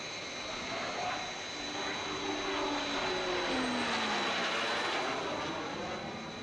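A steady, loud jet roar from the Fireflash airliner's engines on approach, a continuous whining drone with a high tonal whistle that holds throughout, no voices over it.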